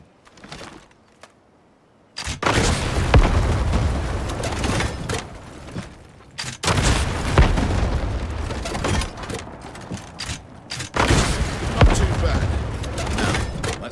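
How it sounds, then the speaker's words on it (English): Rocket launcher shots blasting grey stone walls of a building in HighGuard, each firing bringing a loud, long rumbling boom, with three heavy bursts set apart by brief quieter gaps. "Point that rocket and wipe them out"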